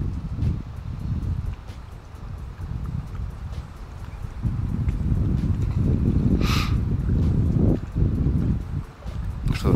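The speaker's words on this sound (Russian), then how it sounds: "Ветер раздуло." Gusty spring wind on the Moscow River bank buffets the microphone in low, rough rumbling bursts that swell and fade, loud and close throughout.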